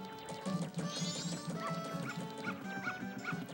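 Dog barking in The Legend of Zelda: Majora's Mask, a run of short yips and barks over steady game music, fairly loud and close.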